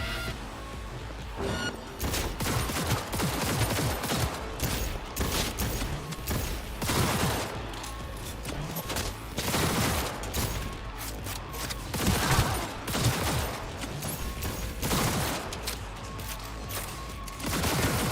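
Gunfire in the video game Cyberpunk 2077 erupts as dense, continuous bursts of automatic weapons and heavy booms, loud and unbroken throughout with no pauses.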